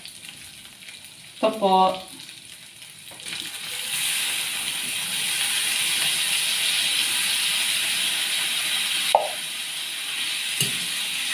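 Mushrooms go into a hot pan for a mixed vegetable dish and sizzle in a loud, steady hiss that lasts for several seconds, with a few stirring clanks and a short spoken phrase just before.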